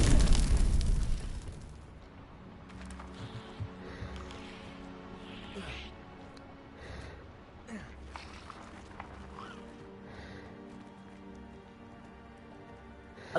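A Confringo fire spell blasting in Hogwarts Legacy, with a loud booming explosion at the start that fades into a low crackling rumble, followed by quieter game sounds and occasional speech.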